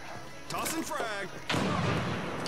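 A fragmentation grenade detonates in the military shooter game America's Army, a sudden broad blast that follows a brief voice and then rumbles on loudly to the end.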